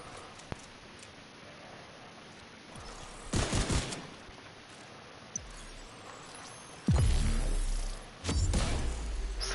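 Gunfire in the shooter game The Division 2, with a short rattling burst of rapid shots followed by a longer sustained volley, loud and close, separated by quieter game ambience.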